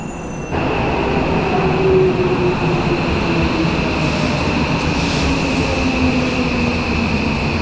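A metro train runs through an underground station in Tokyo, a loud continuous rumble with a high steady whine and faint wheel squeal, starting abruptly and holding throughout with no talking.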